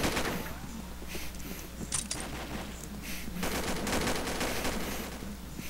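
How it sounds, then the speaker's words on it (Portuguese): Rapid machine-gun bursts from an online shooter video game, dense crackling fire that swells and fades over several seconds against a steady background hum. "tem rajada desse cara aí"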